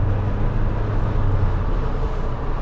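A 1986 Porsche 928S on the road, heard from inside as a steady low engine drone under broadband road and wind noise, loud and continuous with no talking.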